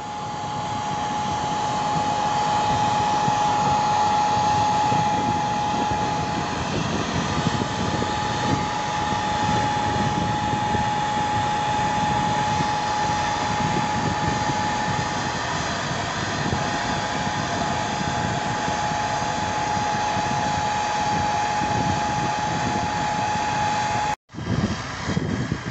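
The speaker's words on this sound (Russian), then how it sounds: "Запускаем первую сеялку." A tractor-drawn seed drill runs steadily while sowing sunflower in a field, a loud continuous engine and fan drone with a steady tone that holds unbroken for the whole stretch, cutting out briefly near the end.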